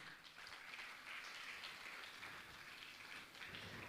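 An audience applauds loudly to honour gold donors at a Jain community gathering, with dense continuous clapping that fills the whole stretch at steady strength.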